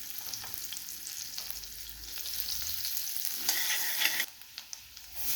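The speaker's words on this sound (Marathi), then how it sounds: "कांदे चांगले भाजून घेऊ." Onions fry in hot oil with cumin and garlic in a kadhai, a steady crackling sizzle broken by occasional stirring scrapes, close and moderately loud with no voices.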